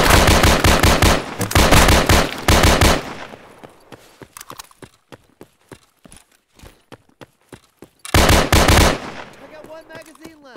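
Rapid automatic gunfire in the zombie shooter No More Room in Hell rattles in loud dense bursts, then breaks into spaced single shots and resumes with another heavy burst near the end.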